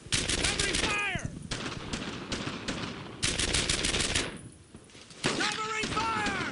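Close, loud machine gun bursts from the World War II shooter Brothers In Arms: Earned In Blood, in several rapid volleys with brief gaps, while shouted voices cut in at the start, around one second and near the end.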